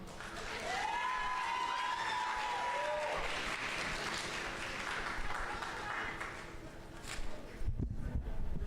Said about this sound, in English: One more time, give her a round of applause.